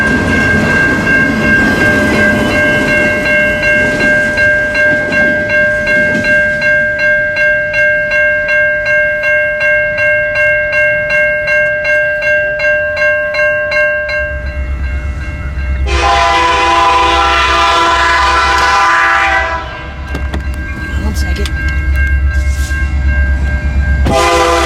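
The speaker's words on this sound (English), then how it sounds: "his train was mostly ROX and there was some manifest" A freight train of mostly ROX cars with some manifest cars at the head end rolls past in Southeast Michigan. Loud sustained horn blasts sound over rhythmic clickety-clack from the wheels, and a heavy rumble swells as the train passes close.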